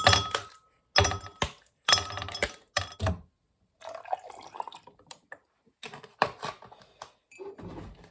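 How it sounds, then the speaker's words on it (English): Ice cubes drop and clink into a container in several sharp, close bursts, rattling against its sides, followed by quieter scattered clinks and shuffling with no one talking. "Put some ice cubes in here."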